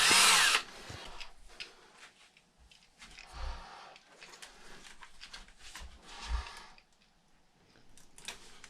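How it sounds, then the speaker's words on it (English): A power drill bores a hole through an X-Maxx A-arm, opening with a loud whirring burst and followed by shorter, quieter intermittent bursts of drilling. "Line our drill up with the sway bar link and blow a hole through the A-arm."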